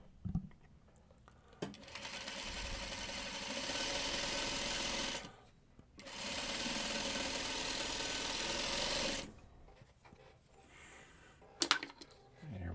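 A sewing machine stitches quilt fabric squares cut on the bias for a Diamond Log Cabin block, running in two long, steady bursts separated by a short pause, with no talking.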